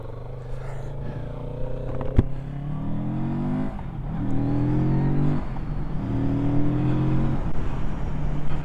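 A Kawasaki Z650RS motorcycle engine pulls hard through repeated rising revs, each gear climbing in pitch and then dropping at the shift, heard close and loud after a sharp click near the start.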